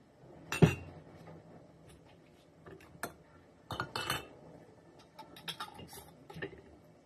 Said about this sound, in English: Okay, my beets are boiling, so I'm going to start filling up my jars.